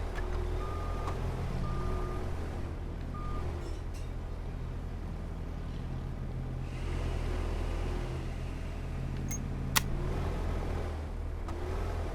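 A vehicle reverses to park beside a car on a demolition and building site, its repeating reversing beep over a steady low engine rumble, with a sharp click near the end.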